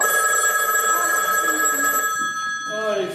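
A telephone bell rings on stage during a French theatre play, a steady sustained electric ring filling the space for a few seconds before fading, with faint stage noise beneath.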